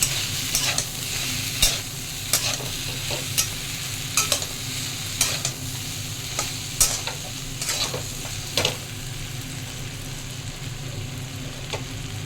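Vegetables for Bengali shukto are stirred in a frying pan with a little turmeric, the spatula scraping in repeated sharp strokes over a steady, close sizzle.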